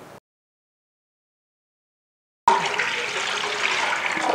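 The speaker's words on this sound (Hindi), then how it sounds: "सबसे पहले हमने इसमें पानी डालना है।" Water pours steadily into a pot of meat being cooked for haleem, a full splashing gush that starts abruptly after a brief silence and continues evenly.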